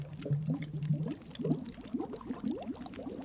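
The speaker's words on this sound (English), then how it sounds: "Gonna warm up a cup of coffee." Coffee warming in The Long Dark video game gives a gentle bubbling and simmering of liquid, soft irregular burbles repeating throughout at close range, without talk.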